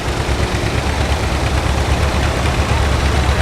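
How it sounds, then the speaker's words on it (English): A John Deere 4020 six-cylinder tractor engine runs at a steady, loud, low rumble, constant throughout with no change in pace. "4020 is a 6-cylinder engine."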